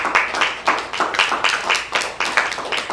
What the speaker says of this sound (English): Give Almighty Yah hand clap praise